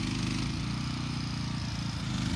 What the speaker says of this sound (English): I got the pressure washer.